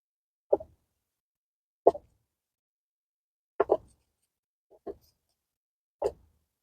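Chopped plant scraps dropped by hand into a compost container land as five separate soft plops, each short and close, spaced out by silent gaps.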